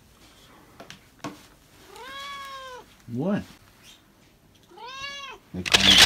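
A cat meows twice, close and clear, with a quick chirping call between the meows, while a person briefly speaks and a loud rustle comes at the end.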